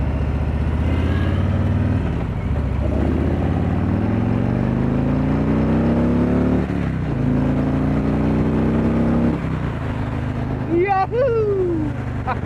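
A Harley-Davidson Street Glide motorcycle engine runs loud and close throughout, its pitch climbing and dropping as it revs, with a rider's excited shouts cutting in near the end.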